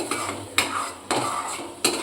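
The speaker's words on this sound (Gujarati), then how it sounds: "હવે દહીંને સરસ મિક્સ કરી દેવાનું છે મસાલા જોડે." Spoon scraping and clinking against a pan as yogurt is stirred into masala for shahi paneer, with a few sharp taps at a steady rhythm over faint background hiss.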